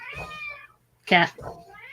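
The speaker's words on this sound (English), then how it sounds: "Oh, cat." A house cat meows close by, two or three distinct cries in quick succession, with a person speaking around them indoors.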